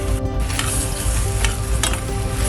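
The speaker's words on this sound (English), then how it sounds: "Now I'm going to use this to saute my garlic and my onion. I'm putting the garlic first, saute it for a little bit" Garlic sautéing in a pan while being stirred, a steady broadband sizzle with a few brighter scraping strokes from the utensil, close and fairly loud throughout with no talk.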